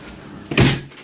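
An apartment door closes with a single solid thud as a plumber leaves, one short knock against quiet room tone.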